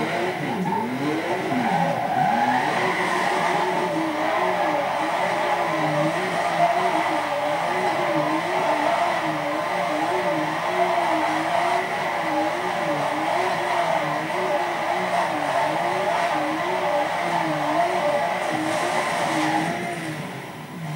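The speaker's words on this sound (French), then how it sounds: "elle va vite, donc on va essayer de faire un petit drift" A car engine in Need for Speed Most Wanted wails and revs continuously while drifting, pitch swinging up and down in a wavering pattern over steady road noise, loud and sustained.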